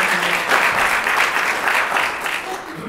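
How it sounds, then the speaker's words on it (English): An audience at a film premiere panel in Portland applauds, a dense, steady patter of clapping that fills the whole moment at close range before easing slightly at the end. "A round of applause again for her."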